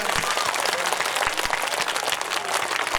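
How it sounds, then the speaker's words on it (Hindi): A crowd at a Bhojpuri Ram Katha religious discourse in Deoria claps steadily throughout, a dense, close wash of applause with some faint voices mixed in. "उठा लो, ताली बजा बढ़िया रे।"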